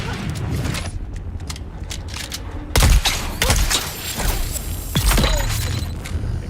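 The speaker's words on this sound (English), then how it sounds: "Shoot all these jerks and blow them up." Close, loud bursts of gunfire and explosions from the video game Dune Awakening, with crackling impacts and a sharp heavy blast partway through, layered over continuous battle noise.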